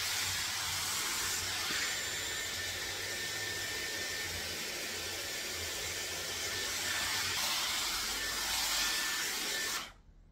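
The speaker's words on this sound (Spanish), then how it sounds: "simplemente utiliza tu secador normal y ayúdate con un cepillo" A hair dryer blows steadily and close for about ten seconds while hair is straightened with a brush, a continuous loud airy hiss that cuts off abruptly at the end.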